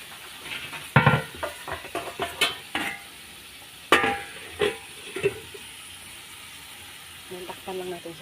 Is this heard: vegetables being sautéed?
yes